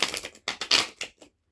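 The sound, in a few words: shuffling a tarot card deck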